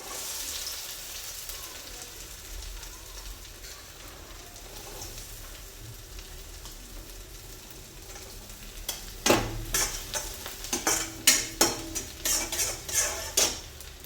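Onion fries in a pan for egg Manchurian with a soft, constant sizzle. Later it is joined by a run of sharp, rhythmic metallic clatters from stirring with a utensil, and no one speaks.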